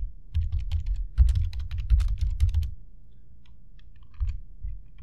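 Rapid clicking of keys on a computer keyboard as a font name is typed into a search bar, a dense burst of keystrokes followed by a pause and a few more taps, close and clear with no talk.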